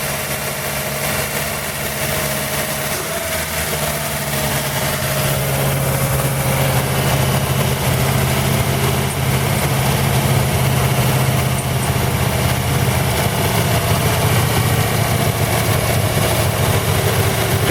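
A 1940 Buick straight-eight engine idles steadily after its first start in 30 years, a low, even rumble with a constant hum running close and unbroken throughout.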